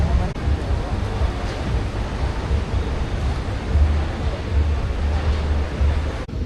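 Ocean waves at Varkala Beach, Kerala, at night, heard as a constant roar of surf, loud and steady, with gentle swells in the low rumble and no clear voices.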